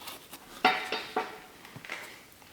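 Metal bolts clink and rattle as they are handled while refitting the valley pan on a GM L83 V8 engine, a few sharp, close metallic taps spaced out over quiet background.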